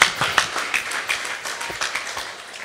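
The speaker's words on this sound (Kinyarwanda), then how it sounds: "Reka dukomere Yesu amashyi menshi." Audience clapping at a church choir competition, a moderate round of scattered claps that starts strong and gradually thins and fades.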